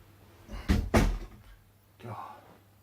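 Indoors late at night, a door opens with two sharp knocks close together, then shuts softly a moment later, all quite quiet.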